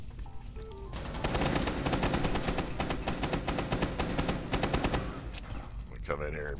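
Rapid gunfire in the video game Rainbow Six Siege, bursts of automatic shots crackling loudly for several seconds with overlapping exchanges from two directions, then a pause and a brief electronic tone at the end.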